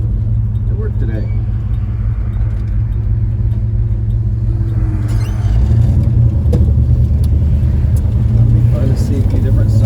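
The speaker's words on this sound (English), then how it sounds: "So we're driving from Utica Square to work today." An old truck drives through Tulsa streets with a steady low engine rumble and road noise throughout, growing slightly louder midway, with people talking over it.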